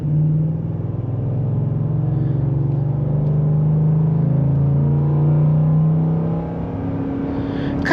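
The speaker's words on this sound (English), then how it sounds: "if we brake a little bit and we give a little bit of gas" A 2024 Ford F-150 Lariat pickup with a 5.0L V8 pulling under light throttle, a steady low engine drone heard from inside the cab with slight rise and fall in pitch, muted and continuous.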